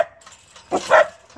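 A puppy lets out a couple of brief, high yipping barks close by in a home, short and sharp with quiet gaps between them.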